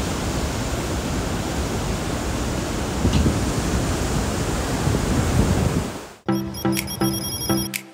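Rhine Falls waterfall in Switzerland roaring as a loud, steady, dense wash of water that fills the scene, then cutting off abruptly near the end to a ringing electronic tone.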